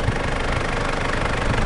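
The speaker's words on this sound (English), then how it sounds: "motor 2800, y esto es este turbo diesel intercooler" A 2005 vehicle's 2800 turbo diesel intercooler engine idling, a steady loud mechanical rumble with a slight knocking texture, close and without talk.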